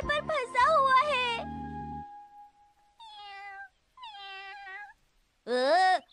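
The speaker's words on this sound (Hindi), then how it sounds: "एक बिल्ली का छोटा सा बच्चा उस पेड़ पर फंसा हुआ है।" A small kitten stuck up a tree in a Shinchan cartoon gives several drawn-out, high meows, two of them alone and others mixed in with talking voices.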